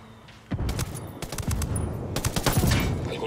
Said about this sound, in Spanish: Algunos tipos oyeron la explosión.